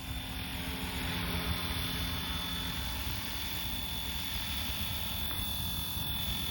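A Flywing FW450L RC helicopter is in flight. Its rotor gives a steady, droning whine with a high tonal hum that holds at a constant pitch from start to finish, heard outdoors at moderate distance.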